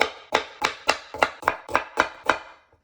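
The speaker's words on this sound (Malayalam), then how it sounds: "ഇനി നമുക്ക് ഈ കഴുകി വൃത്തിയാക്കി വെച്ചിരിക്കുന്ന കോവയ്ക്ക ഒന്ന് അരിഞ്ഞെടുക്കാം" A knife slices washed ivy gourd (tindora) into rounds on a board, giving eight evenly spaced crisp chops in steady rhythm, close and clear, with no talk.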